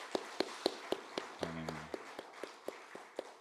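A church congregation claps in a steady rhythm to bless the children, sharp separate claps under a brief sung or hummed tone partway through.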